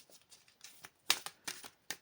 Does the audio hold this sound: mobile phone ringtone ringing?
no